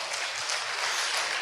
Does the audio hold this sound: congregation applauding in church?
yes